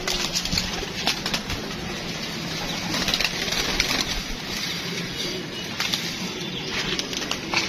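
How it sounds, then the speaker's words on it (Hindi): Pigeons, including a Chinese fulsari hen, coo softly while wings flap in repeated bursts nearby, with a constant busy rustle of birds throughout. "मादी भी यहीं पे है, चीनी फुलसरी कबूतरी है"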